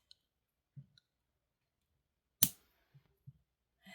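Small scissors snip a notch in beading wire or cord for a purple butterfly necklace, one sharp close cut standing alone in a quiet room, preceded and followed by a few soft clicks and handling taps.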